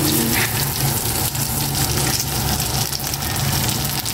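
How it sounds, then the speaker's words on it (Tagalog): Dried fish (tuyo) frying in hot cooking oil, a steady loud close-up sizzle with a continuous hissing, bubbling texture that barely changes over a few seconds. "Prito ko naman po itong tuyo. Lalagyan ko po muna ito ng mantika."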